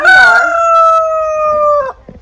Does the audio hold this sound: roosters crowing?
yes